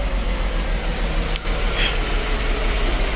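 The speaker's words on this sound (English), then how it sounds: "let's first go ahead and start the car up so you guys can hear it" A 1998 Mercedes S600 coupe V12 engine with catalytic converters removed idles steadily at close range, a continuous low rumble with a brief dip partway through and no voices.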